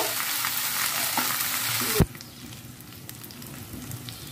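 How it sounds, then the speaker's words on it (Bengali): Spices sizzling and being stirred in a hot pan, a loud crackling fry for about two seconds that then drops to a quieter, steady sizzle with light scraping of the spoon. "এটাকে আমি হালকা একটু নেড়ে ছেড়ে নিব, কাঁচা যে একটা গন্ধ আছে সেটা চলে যাবে"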